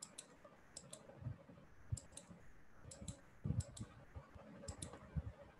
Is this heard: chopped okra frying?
no